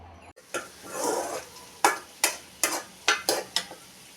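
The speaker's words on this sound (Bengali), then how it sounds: "তো আলু প্রথমে তেলে দিয়ে কতক্ষণ নেড়ে ছেড়ে খালি খালি কষিয়ে নিলাম।" Potatoes are stirred and fried in hot oil in a pan for a Bengali murighonto curry with fish head. A soft sizzle runs under a series of sharp, irregular scrapes and clanks of a utensil against the pan, close and loud, with no talk.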